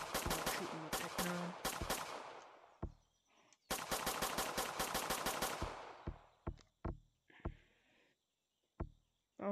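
Rapid automatic gunfire from a gun in the Gorilla Tag VR game comes in two long bursts, then a few scattered single shots separated by silence.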